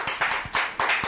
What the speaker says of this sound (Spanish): Un aplauso para doña Judith.